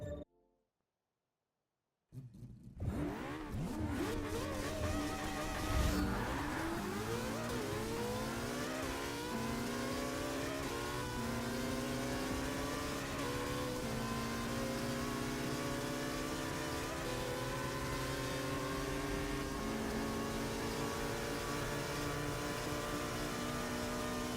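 A McLaren P1 race car in the video game Forza 6 accelerates hard after a short silence, its engine note climbing through the gears into a loud, sustained high-revving drone with no talk.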